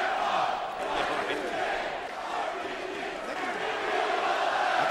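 A large wrestling arena crowd at a 2014 WWE event chants in unison, a dense, roaring wall of voices that swells and dips rhythmically without pause.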